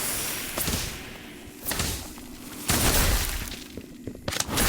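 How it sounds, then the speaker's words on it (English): Glacius freezing spell effect in the Harry Potter: Magic Awakened video game: a burst of bright, noisy whooshes and thuds with sharp icy cracks, loud and dense, several hits in a row. "Glacius!"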